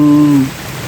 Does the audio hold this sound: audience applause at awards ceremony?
no